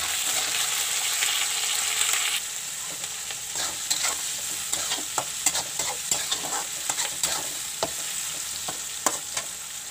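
Capsicum with chili and soy sauces sizzles in a pan for paneer chilli, with a bright steady frying hiss and a run of crisp scraping clicks from a stirring spatula, close and without talk.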